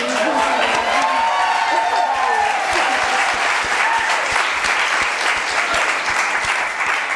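Audience applause at a Hebrew College spring panel discussion: dense, steady clapping fills the whole stretch, with a voice briefly audible over it near the start.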